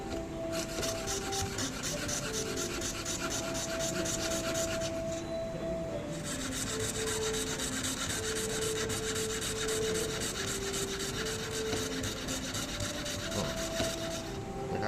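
A fretsaw rasps steadily back and forth through mother-of-pearl shell in a quick, even rhythm, pausing briefly midway before resuming, close up.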